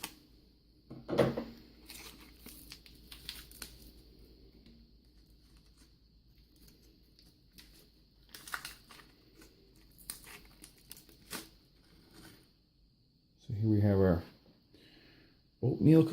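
Snips and crinkles from scissors cutting into the stiff, slightly delaminated wrapper of an old US military ration oatmeal cookie bar, a few short rustles scattered through quiet, then a louder burst of crinkling near the end.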